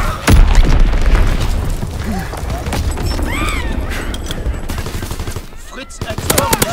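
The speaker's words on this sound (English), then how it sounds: "Enemy bomb incoming." An enemy bomb goes off in a video game with a loud, deep boom near the start, followed by a steady crackle of distant gunfire and scattered effects, with game radio chatter over it.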